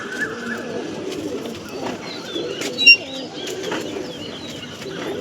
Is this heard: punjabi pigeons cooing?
yes